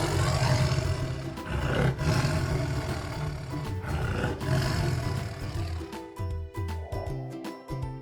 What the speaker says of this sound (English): That's a tiger!